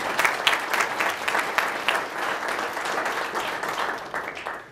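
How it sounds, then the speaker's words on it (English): Audience applause fills a tax law luncheon room, a steady wash of many hands clapping at moderate loudness for several seconds, slightly uneven with small swells throughout. "Larry, clap for these great people on our staff because my hands are full."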